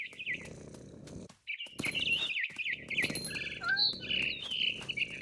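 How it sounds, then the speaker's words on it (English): Birds chirp and tweet in short bright bursts within the video game What Remains of Edith Finch, layered over a low ambient rumble with a few sharp clicks, fairly close and steady. "All I cared about was eating that mama bird."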